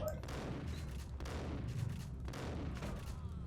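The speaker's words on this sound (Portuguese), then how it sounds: "Tiro de 12 dessa distância." Gunfire in the Max Payne video game, including a 12-gauge shotgun blast, with several heavy booming shots over a dense, loud game soundtrack.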